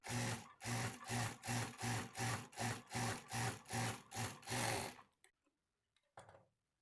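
A sewing machine stitches folded blouse lining cloth in a steady, pulsing run of close mechanical strokes for about five seconds, then stops, followed by a faint brief handling sound.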